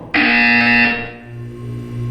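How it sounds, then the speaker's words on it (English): A loud, steady electronic buzzer in the video game Portal 2 blares for about a second, then cuts to a lower lingering hum with a fainter tone. "You will hear a buzzer."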